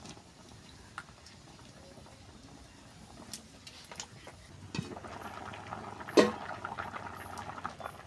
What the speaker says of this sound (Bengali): ডালটা সিদ্ধ হয়ে আসে আর একটু সিদ্ধ হয়ে গেলে নামিয়ে নেব